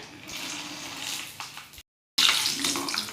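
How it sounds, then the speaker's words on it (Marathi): Peanuts frying in a pan of hot oil for homemade sago chivda, a steady close sizzling hiss with a brief silent gap before it resumes louder. "शेंगदाणे तळून घेणार आहे"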